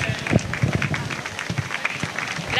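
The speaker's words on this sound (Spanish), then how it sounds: "a quien recibimos con un fuerte aplauso" An audience applauds to welcome a poetry-reciting teacher at a viticulture course closing ceremony, the clapping dense and moderately loud with scattered sharper claps throughout.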